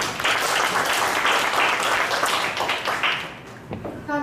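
Teachers at an international education training workshop applaud a colleague: a loud, dense round of clapping from a roomful of people that thins out and fades near the end.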